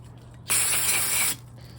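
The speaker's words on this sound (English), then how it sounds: "once you have all those jets sprayed, spray inside here, both sides" A single short burst of aerosol cleaner sprayed on a lawn mower hisses for under a second, loud and close, then cuts off abruptly into quiet.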